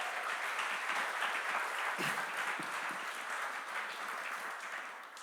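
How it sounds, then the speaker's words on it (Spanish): A church congregation applauds steadily, dense clapping heard from a distance in a reverberant hall, fading slightly toward the end. "Demos un aplauso al Señor por eso."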